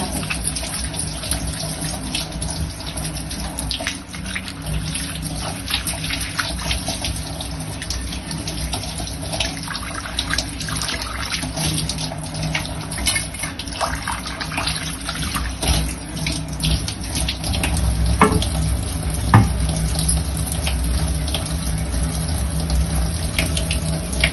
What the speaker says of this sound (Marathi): आता झाकण पण धुवून घेते